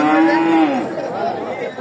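A heifer lets out a loud, close moo that drops in pitch and trails off, heard at a busy livestock market with faint crowd chatter behind it.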